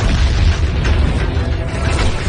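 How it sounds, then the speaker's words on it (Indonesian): A loud, sustained explosion booms through an animated martial-arts fight as a summoned symbol puppet attacks, a dense low rumble with crackling debris that holds steady for the whole moment with no voices. "menyerangnya dan terjadi ledakan"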